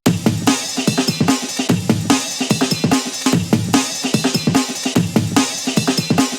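A busy, loud drum break loops, a break used for hardcore, with punchy kicks and snares, crisp hi-hats and a fast, driving groove played continuously.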